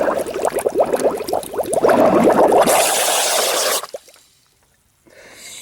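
Water gushing out of a reverse osmosis pre-filter being flushed, a loud turbulent rush with splashing and a breathy exclamation, cutting off abruptly before a faint hiss returns.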